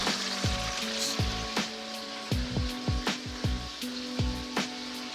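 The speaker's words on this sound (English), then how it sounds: "this is the second fry for the drumsticks" Buttermilk fried chicken drumsticks on their second fry in hot oil, crackling and sizzling steadily at close range, with repeated sharp pops and spits scattered through the bubbling.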